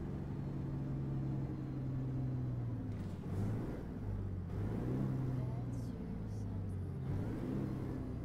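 A Caterpillar diesel truck engine in American Truck Simulator drones steadily at low pitch, rising and falling slightly in revs across several seconds, with faint clanks over the rumble.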